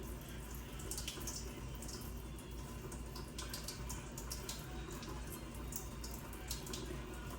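Hands and wrists are rubbed and rinsed under a running tap during a nursing handwashing demonstration, a steady faint splash of water with soft wet friction throughout.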